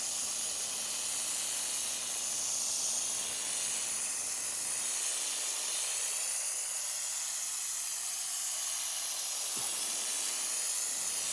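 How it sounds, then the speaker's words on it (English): 3M contact adhesive sprays onto carpet in a continuous, airy hiss that holds evenly throughout, soft and close with no talking. "I find the 3M contact adhesive works the best. So what you want to do is spray the carpet"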